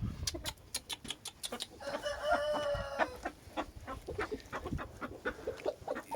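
An Aseel rooster clucks repeatedly in short, sharp bursts, then lets out a long crow midway before returning to quick clucking.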